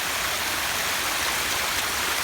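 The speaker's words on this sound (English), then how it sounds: "Check this pondless waterfall out. It's got 3 waterfalls" Pondless garden waterfall with three cascades among rock, a loud, continuous rushing splash of falling water heard up close with no other sounds.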